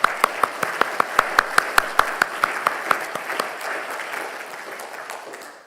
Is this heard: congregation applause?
yes